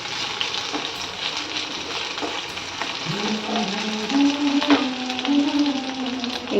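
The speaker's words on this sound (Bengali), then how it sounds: "আর এদিকে মশলাটা একটু কষাচ্ছি" Spice masala for a potol dolma sautés in a pan, producing a constant sizzle with occasional scraping strokes of a spoon. A steady tonal hum joins midway, and there is no speech.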